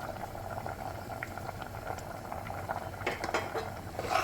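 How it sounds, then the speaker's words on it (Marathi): Rice and dal khichdi with soya chunks bubbles in a pot at a low, steady boil, with faint clinks of a utensil against the pot toward the end. "आता आपल्या भाताला छान उकळी फुटली आहे"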